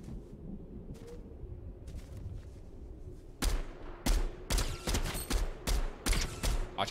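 Gunfire in the Fortnite video game, beginning with a few faint distant shots, then louder sharp bursts repeating in quick succession over low background noise.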